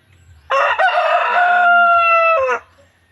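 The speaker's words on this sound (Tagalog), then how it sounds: "Oh, natunog-tunog pa siya. Ito yung manok ng kuya ko." A fighting rooster kept in a farmyard crows once, loud and close. The call is long and drawn out and fades at the tail, with quiet background before and after.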